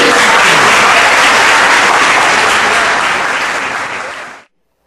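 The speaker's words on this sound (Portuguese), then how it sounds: "Vamos dar uma salva de palmas para eles saírem?" Dense, loud applause from a large church congregation fills the space continuously, tapering slightly before stopping abruptly.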